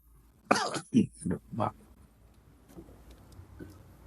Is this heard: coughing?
yes